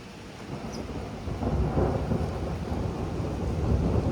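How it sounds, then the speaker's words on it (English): Thunder rumbles through a thunderstorm on a windy day, a low, broad roll that swells midway and stays sustained to the end, with no talking. "I did just hear some thunder"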